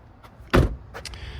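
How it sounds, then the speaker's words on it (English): The electronic door release button on a 2024 Lexus NX250 pops the door open with a single firm mechanical clunk, followed by a faint latch and seal sound in a quiet cabin. "you press a little button in here and it unlocks the door"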